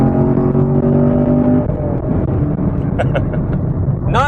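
A 2017 Camaro SS 1LE with a 6-speed manual pulls loud and close, its engine note climbing through a gear, then dropping at the shift before revving up again near the end.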